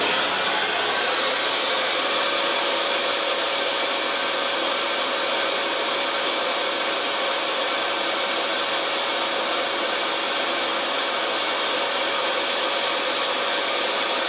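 Flowbench fan roars with a steady, loud broadband rush of airflow as the valve is gradually opened, a constant whooshing drone with a faint tonal hum and no speech.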